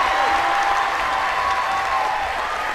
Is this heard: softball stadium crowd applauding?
yes